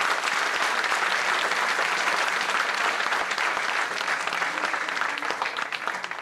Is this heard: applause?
yes